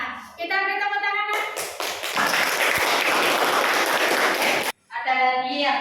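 A small class or group bursts into clapping for a news-text reading, with a dense, brief round of applause between stretches of speech, and the sound cuts off abruptly.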